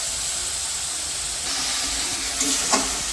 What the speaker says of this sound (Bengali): তো ফোড়ন দিয়ে তার মধ্যে পেঁয়াজ বাটাটা দিয়ে দিলাম